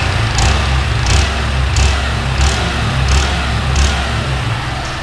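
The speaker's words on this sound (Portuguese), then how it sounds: "Então o escapamento começa a assoviar" Car exhaust with a washer fitted inside it, running with a steady low engine rumble and a hissing whistle that swells and fades in regular bursts about every 0.7 seconds, close and loud, with no talking.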